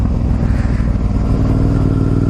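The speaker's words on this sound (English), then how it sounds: "What's the sound a two-stroke makes?" A two-stroke engine revs loudly and close for a couple of seconds, a dense buzzing roar with steady rattling pulses and no talk.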